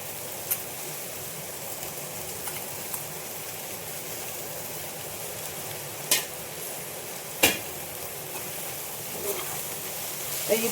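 Bharangi flowers being sautéed with onions in a pan on low heat, a steady soft sizzle broken by a few sharp clicks and scrapes of the spatula against the pan, no voices.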